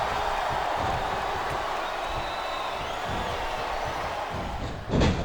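A dense, steady roar from a crowd in a WWE video game arena fills the whole stretch, and a single heavy slam lands near the end.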